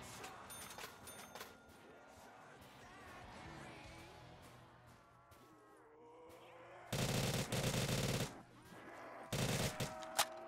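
Bursts of automatic gunfire in a Call of Duty custom zombies map, dense and loud, arriving in two heavy volleys in the second half after quieter game ambience and music.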